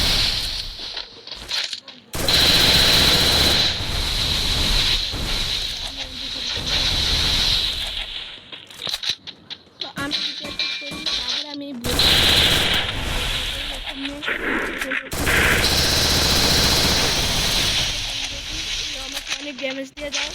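Rapid gunfire from a shooting video game, a Desert Eagle pistol among the weapons, with loud bursts of repeated shots separated by brief pauses and a voice speaking between them.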